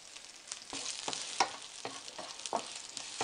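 Garlic sizzling and frying in hot oil with popped mustard seeds, with a soft, repeated scraping of stirring every half second or so and a few small pops, fairly close.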